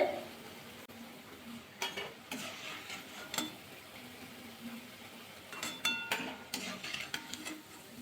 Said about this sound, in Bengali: বাকিগুলো এইভাবে ভাজা করে নেবো